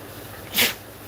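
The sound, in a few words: sneeze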